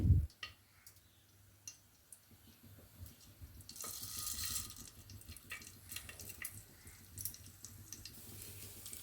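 Oil crackles and sizzles in a pan as spices are tempered, with a burst of hissing midway, then steady popping and ticking spatters continue nearby, with no voices.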